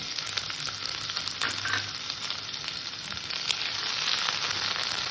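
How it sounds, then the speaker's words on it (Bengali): Chopped onion fries in a pan of hot oil with a loud, constant close-up sizzle and crackle, alone and without talk. "পেঁয়াজটাকে আমি হালকা লাল করে একটু ভেজে নেব"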